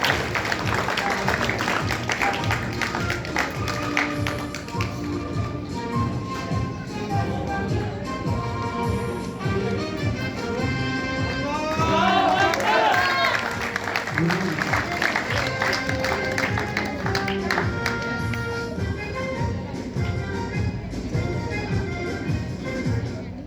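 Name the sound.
audience applause for a prize winner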